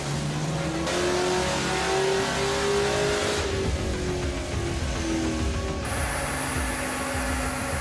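Tiny Lister SL1 stationary engine runs continuously in a steady, loud mechanical drone with slowly shifting pitch and no voices.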